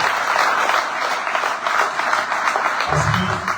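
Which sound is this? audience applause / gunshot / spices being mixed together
audience applause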